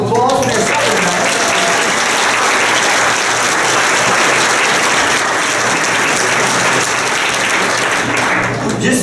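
An audience at a dinner-theater murder mystery show gives a loud, sustained round of applause, dense and steady for about nine seconds, with a few voices mixed in.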